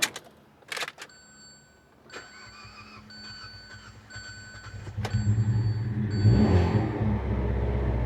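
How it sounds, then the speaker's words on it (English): A Suburban with 108,000 miles is started and revved in neutral. A few sharp clicks and ticks and a faint electronic chime come first, then the exhaust swells into a low, rumbling rev that grows louder toward the end. "did you hear the exhaust?"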